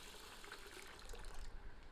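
Water is poured over long-grain basmati rice to soak, making a soft, steady gushing trickle with faint clicking grains, quiet and close.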